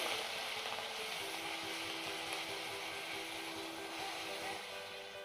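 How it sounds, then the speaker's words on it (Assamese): Onions fry in oil in a pan for a paneer masala curry, making a continuous soft sizzle with a faint mechanical rattle of stirring running underneath. "এতিয়া মই এইদৰে দি দিছো পিয়াজখিনি আৰু ভালদৰে অকমান লৰাই দিছো"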